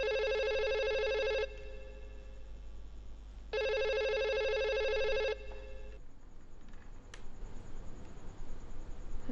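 A telephone rings in two long bursts separated by a pause, loud and close, followed by quiet room noise and a small click.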